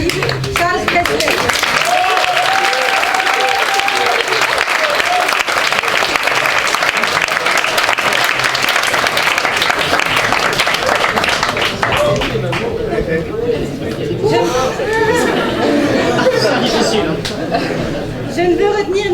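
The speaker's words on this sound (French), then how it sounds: "Je vous demande un tonnerre d'applaudissements pour l'homme qu'il a accompli, Charles Prestel." Audience applause at the final of the French debate championship, sustained loud clapping from a large crowd with some laughter and chatter, fading and thinning toward the end.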